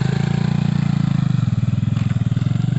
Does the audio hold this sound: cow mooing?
no